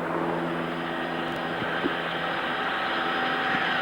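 Helicopter hovering about 1,000 feet above a packed stadium at the 1981 VFL Grand Final, Carlton versus Collingwood, giving a steady, dense engine and rotor drone with a faint rhythmic thump running through the whole stretch.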